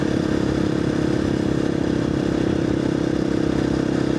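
A KTM 350 motorcycle cruises in sixth gear at around 30 to 35 mph on a rough back road. The engine gives a steady, unbroken drone with wind rush and no talk.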